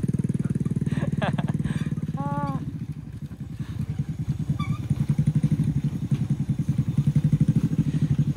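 A motorcycle laboring up and down a rough, rutted hill road, its engine chugging in a loud, pulsing rhythm with clattering bumps, a short horn-like tone midway, close to the rider throughout.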